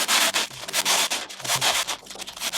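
Sandpaper rubbed hard over 686 pant fabric in quick back-and-forth strokes, close and loud, with an even scraping rhythm and no voices.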